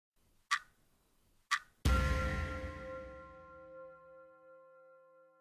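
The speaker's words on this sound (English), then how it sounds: "I got a timer and some cool clock noises" Clock sound effects used as a reload timer for an SR-2M Veresk gun in a CrossFire review: two sharp ticks a second apart, then a loud bell-like clang that rings and slowly fades, with no talk.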